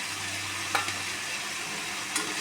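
Vegetables and green peas fry in a wok with a continuous soft sizzle, broken by two quick scrapes of a spatula stirring them.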